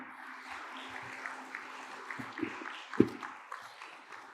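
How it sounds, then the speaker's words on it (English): Light applause at the opening session of a UN geospatial information congress, soft and sparse with a few sharper claps standing out, heard at a distance in a large hall. "I request to give a big applause and welcome"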